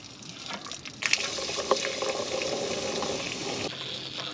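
Water gushes steadily from an opened drain-hose valve at the bottom of a water heater aboard a 1953 Kenworth bus, a broad hissing rush starting abruptly after a quieter second and cutting back near the end, with no talk.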